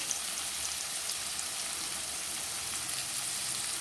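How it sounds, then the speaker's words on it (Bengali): Fried potatoes sizzle in hot oil as dried chili powder is added, giving a steady, even crackling hiss that stays close and constant throughout. "দেখো আলুটা আমার ভাজা হয়ে গেছে আমি দিয়ে দেবো এবার একটু শুকনো লঙ্কার গুঁড়ো"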